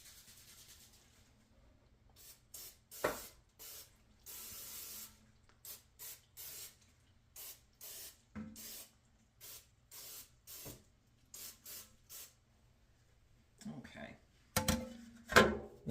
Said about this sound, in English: Nice liberal spraying.